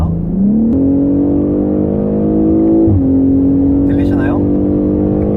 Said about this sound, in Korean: 다시 한번 가속을 해볼까요?